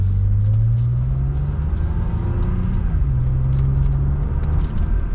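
A rare Saab 9-3 TurboX drives along back roads, its engine droning steadily with a low, continuous rumble and a slight pitch rise as it pulls, heard from inside the car with no talking.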